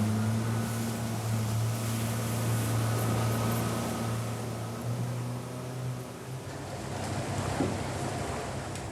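Turbulent tidal water churning in a remote Australian bay, a broad, steady rushing roar with surging waves, alongside a low droning engine hum that fades partway through.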